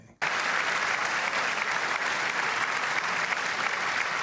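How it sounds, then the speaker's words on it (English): Crowd applause at the State of the Union starts abruptly and continues at a steady, full level, many hands clapping together with no letup. "You got one Democrat clapping for that."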